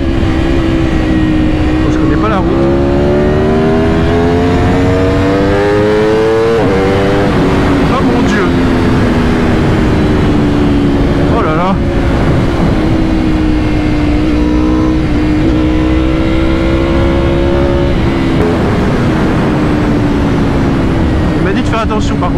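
An Aprilia RSV4 RF sport motorcycle accelerates hard on an open road, its engine note rising through repeated upshifts in loud, close sweeps with a rider's voice breaking in over the roar.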